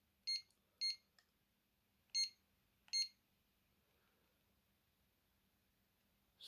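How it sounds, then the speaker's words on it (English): An Alcatel One Touch Easy (HE1) mobile phone from 1998 sounds its ringtone: four short, bright electronic beeps in an uneven pattern, clear and close against near silence. "Hang on, there's see if I can change the ringtones."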